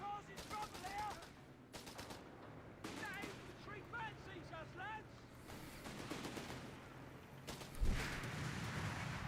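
Battlefield gunfire in Company of Heroes 3: repeated bursts of rapid shots and a few distant booms, moderately faint, heard under a commentator's voice.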